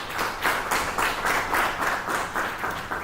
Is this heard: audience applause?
yes